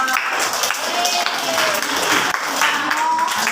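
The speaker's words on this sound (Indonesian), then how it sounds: "Tepuk tangan dulu dong." Students in a classroom clapping together, dense continuous applause that fills the whole stretch at an even, fairly loud level.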